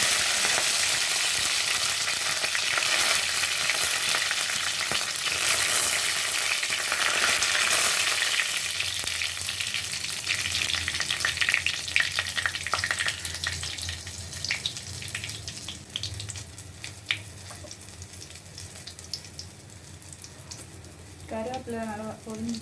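Mustard seeds, green chilies and curry leaves sputter and sizzle in hot oil for a mango pachadi, a loud steady frying hiss that gradually fades and thins, with faint stirring near the end.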